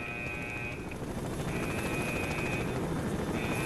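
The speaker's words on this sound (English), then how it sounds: "the helicopters are still flying around" Helicopters fly around in the video game Stalker: Shadow of Chernobyl, a steady rumbling rotor drone with faint recurring whines over it, holding at an even level the whole time.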